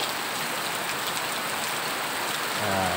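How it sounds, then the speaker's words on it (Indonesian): A heavy midday downpour roars outside in a constant close hiss of drumming drops, steady throughout and without speech. "Heavy rain, heavy rain."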